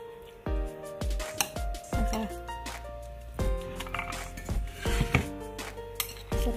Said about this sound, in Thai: เสร็จแล้วก็เคล้าในผัก ค่ะค่อยๆเคล้านะคะค่อยๆคลุก